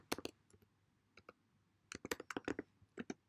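Light, close clicks of typing on a computer keyboard while writing game code, a few scattered keystrokes followed by a quicker burst of taps, faint and quiet with no talk.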